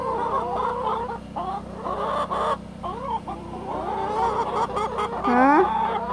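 Adult hens cluck and squawk steadily up close, a busy rising-and-falling chorus with one louder, sharper call near the end over a constant low hum.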